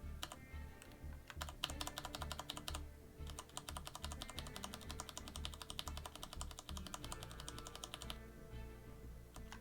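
Rapid clattering keystrokes on a computer keyboard, close and fairly quiet, in bursts with a couple of short pauses, during a stream of a card game.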